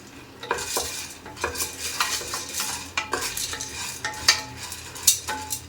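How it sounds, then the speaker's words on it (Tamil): Karamani beans dry-roast in a pan, stirred repeatedly so the beans and spoon make rattling, scraping clicks and taps in an uneven rhythm, close and fairly loud. "நல்லா அந்த ஈரப்பதம் போகிற அளவுக்கு நம்ம வறுக்கணும்"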